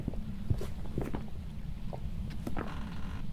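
Ghost footsteps in the Phasmophobia horror game, a series of soft, uneven thuds stepping close by at a steady pace over a low background hum.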